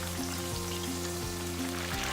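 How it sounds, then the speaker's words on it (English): Steady, dense sizzling of chicken wings deep frying in hot oil, loud and continuous with a constant crackling hiss and no voices. "Fry the chicken wings for about 6 minutes until they are a light golden brown"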